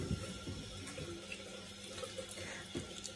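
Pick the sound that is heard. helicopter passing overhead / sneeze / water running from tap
water running from tap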